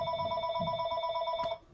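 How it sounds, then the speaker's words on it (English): A mobile phone rings indoors in a crafting workshop with a steady, bright electronic tone that pulses in a repeating pattern, then cuts off near the end, with no talking over it. "Oh, it's my phone."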